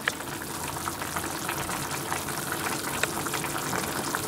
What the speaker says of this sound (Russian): Варятся овощи сабджи.